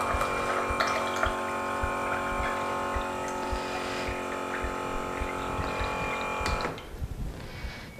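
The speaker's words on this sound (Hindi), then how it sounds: "तो सिर्फ यहाँ पे प्रेस करना है और पानी निकलना शुरू" An automatic electric pump on a 20-litre water bottle can dispenser hums steadily while water flows and splashes into a container for several seconds, then the pump stops and the flow trails off.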